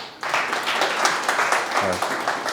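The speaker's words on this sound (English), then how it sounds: "A louder round of applause to the guest from Tallinn coming here." An audience at a startup pitch session applauds steadily, a dense, close wash of clapping that starts abruptly and continues throughout, with a brief voice briefly audible beneath it.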